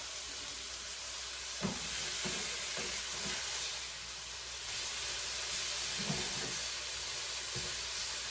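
Steak sizzles and fries steadily in a hot pan, a dense hiss with scattered soft clinks and scrapes as it is flipped, close and alone with no talk.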